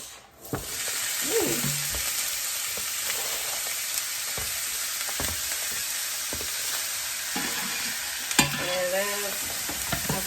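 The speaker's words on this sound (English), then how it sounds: "I have some olive oil in here, and I'm getting ready to saute my onions" Onions sautéing in olive oil hiss in a pan on the stove, a continuous close sizzle broken by occasional spatula scrapes and utensil knocks.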